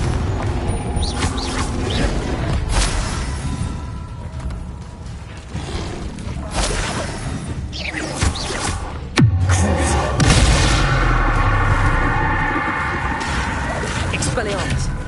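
Confringo fire blast spells going off in the game Hogwarts Legacy, a steady run of booming, whooshing magic explosions with a sharp loud burst near the middle, while a voice calls out spell names throughout.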